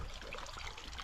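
Water pumped from a trout pond starts running into a canal, a steady, close trickling and rushing flow with no pause.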